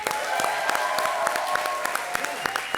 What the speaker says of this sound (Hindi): परेश जी के लिए एक बार जोरदार तालियां